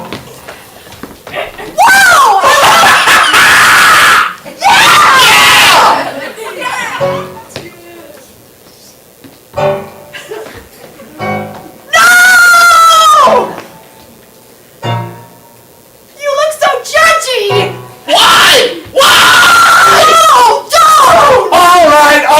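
A group of people in a ComedySportz improv show yelling and screaming together in several loud bursts, separated by quieter talking.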